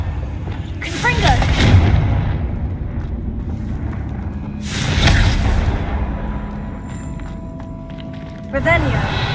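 Confringo fire blast spell cast in Hogwarts Legacy: two heavy booming bursts a few seconds apart with a third sharp burst at the end, over a continuous rumbling game background.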